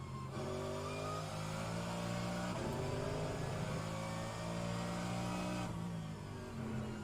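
Mercedes AMG GT3 engine in sixth gear in rFactor 2 at the Indianapolis Road Course, a loud, steady high-revving drone that briefly changes pitch near a gear shift and then holds.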